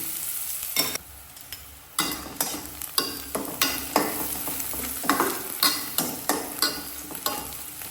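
Onions frying in a pan for a fish curry, a loud close sizzle punctuated by a regular series of spatula stirs and scrapes about once a second.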